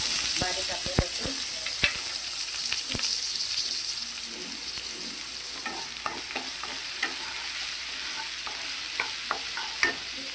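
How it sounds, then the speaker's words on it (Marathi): Finely chopped garlic and chillies fry in hot oil, a dense steady sizzle with sharp crackles and spoon taps, louder at first and then settling. "आता आपण टाकूया लसूण, बारीक आपलं लसूण."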